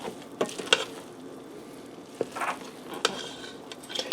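Scrambled eggs being stirred and broken up into chicken fried rice in an Instant Pot. The clip carries soft scraping and stirring with light sizzling, plus a few sharp utensil clicks against the pot. No one talks.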